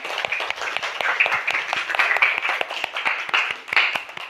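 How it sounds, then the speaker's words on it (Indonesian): Schoolchildren of class 3 applaud together in a classroom, a dense steady patter of hand claps that continues loudly for several seconds without talk. "tepuk tangan untuk kelas 3"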